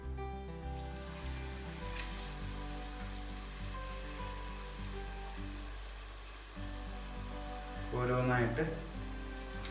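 Batter-dipped banana fritters, pazham pori made Kerala style with ethakka, frying in hot oil: a steady, soft sizzle and crackle running throughout, swelling briefly near the end, while someone talks over it.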